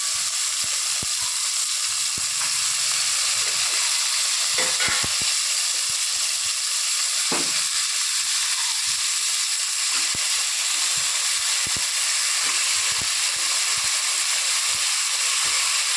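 Potatoes frying in hot oil for a sundal kulambu, a loud, constant hissing sizzle close up, with a couple of brief stirring scrapes early on.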